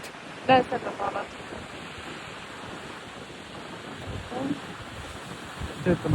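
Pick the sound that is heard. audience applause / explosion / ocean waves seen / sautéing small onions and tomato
ocean waves seen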